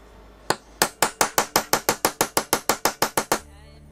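Holes are punched through a homemade engine casing gasket with a hammer: about fourteen sharp, evenly spaced blows land in quick succession, each ringing briefly, loud and close, then stop.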